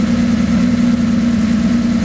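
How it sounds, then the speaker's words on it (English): A 1980 Jaguar XJ6 engine with changed cam covers idles under the open hood of a Jaguar C-type replica, giving a steady, close, low hum with no talking. "This is a standard XJ engine."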